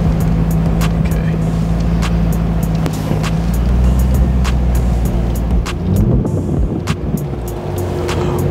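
A 2002 Chevrolet Monte Carlo SS Tom Henry edition cruising, with a steady low engine drone and road rumble from inside the car, a few brief clicks and knocks over it, no talk.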